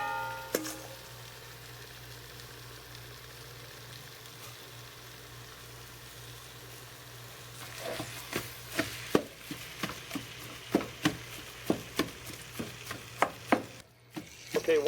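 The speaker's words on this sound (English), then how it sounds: "once you've added your meat mixture to your vegetable mixture, you're going to want to go ahead and keep mixing this" Sausage and beef mixture for chili con carne being stirred into vegetables in a pan. A low steady hum runs underneath, then from midway come repeated sharp scraping and tapping strokes of a spoon against the pan, close and fairly loud.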